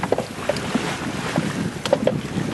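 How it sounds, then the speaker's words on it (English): A sailboat moves wing and wing in very light doldrum wind, with steady wind rush and water wash and occasional soft knocks and creaks of rigging, close, no talk. "here we are, sailing wing and wing with a very light wind"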